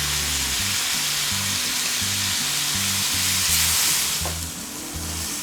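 Tomato and onion with masala fry steadily in a pan for a green gram curry, a broad, continuous sizzle with no voices, joined partway through by a brief clatter of stirring.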